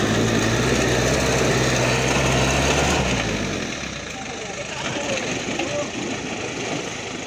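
An off-road vehicle engine revs hard on a river trail, a loud steady drone for about three seconds that then eases off to a lower rumble, with water and splashing textures continuing underneath.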